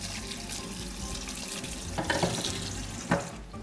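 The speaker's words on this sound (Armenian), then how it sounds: "քամիչի մեջ, վրան սառը ջուր բացում" Cold tap water running over food in a colander in a kitchen sink, a steady close rush with a couple of clatters near the end, no voices.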